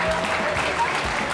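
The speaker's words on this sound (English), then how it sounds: "Round of applause." An audience at a bass fishing tournament weigh-in breaks into a short burst of clapping, moderately loud and close, with a voice briefly heard over it.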